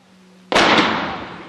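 A single loud, sharp cannon blast booms out, then trails off into a long fading rumble.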